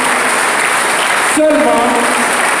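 An audience at a college gathering in Cap-Haïtien applauds in a dense, steady wash of clapping that fills the room, with a voice briefly speaking over it midway.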